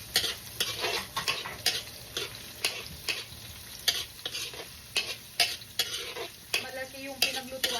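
Onion and garlic sautéing in a large pot for beef kare-kare, a light sizzle broken by rhythmic scraping and stirring strokes about twice per second, close and clear with no talk.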